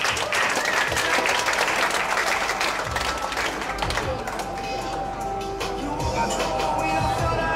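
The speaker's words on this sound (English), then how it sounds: "Round of applause." Steady applause from the audience at a university poetry slam in a bar, a dense wash of clapping that holds for several seconds with a few cheers and voices mixed in beneath it.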